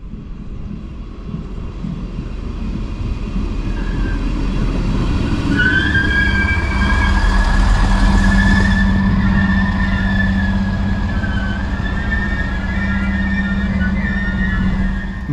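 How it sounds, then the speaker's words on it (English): Lint 27 diesel railcar on the Heller Valley Railway pulling into a station, a rising engine drone with a squealing brake whine near and loud, then settling. "today I got a different train and here we can see it arriving"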